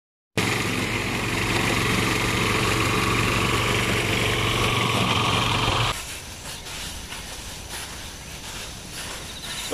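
A motorized cutting machine mows sweet potato vines in a field at harvest time, running as a loud, steady, buzzing engine drone that drops abruptly to a quieter rumble partway through, with no voices.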